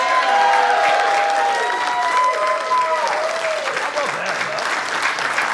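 Studio audience applause at the opening of a comedy talk show, a loud sustained clapping wash with a few cheers that slowly thins out, while a voice talks over it.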